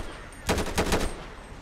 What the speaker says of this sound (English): Hopefully they don't hear these gunshots.